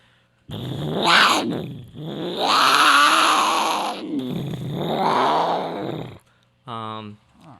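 A voice imitates a big cat, with several long, loud growling snarls close up, separated by short pauses.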